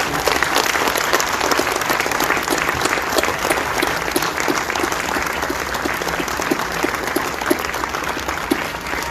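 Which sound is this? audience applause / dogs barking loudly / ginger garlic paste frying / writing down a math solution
audience applause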